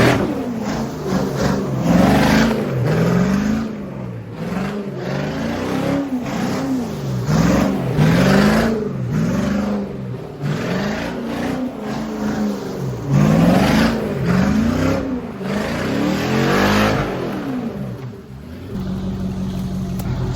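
A V8 engine in a GMT400 OBS truck in a driving game revs up and down repeatedly in rising and falling swells, loud and continuous for about twenty seconds with no talking.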